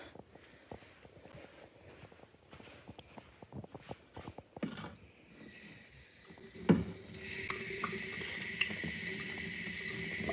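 Metal clasp pieces are rinsed at a sink: a few light clinks and taps come first, then a faucet turns on and water gushes steadily and loudly into the basin.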